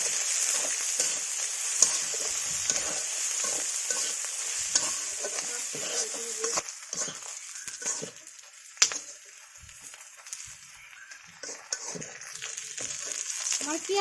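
Whole green chilies stirred into onions frying in oil in a pan, making a continuous bright sizzle with scraping and tapping from a spoon, plus one sharper clack near the end.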